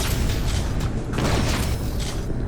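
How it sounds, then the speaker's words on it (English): An Unreal Tournament flak cannon's lobbed grenade of explosive metal shrapnel bursts in a big explosion, heard as a loud, dense rumble with crackling debris that stays heavy throughout. "alternate fire lobs a sort of grenade of explosive metal shrapnel that explodes in a big explosion"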